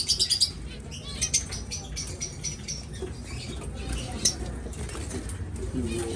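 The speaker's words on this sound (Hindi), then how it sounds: "ये है चिड़िया।" Birds chirp at a zoo with quick, high, bright tweets scattered throughout, alongside pattering and rustling and faint voices in the background.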